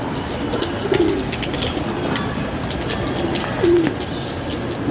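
Soft, low pigeon coos rise twice from a steady hiss of ambient noise, with faint chirps and clicks scattered around.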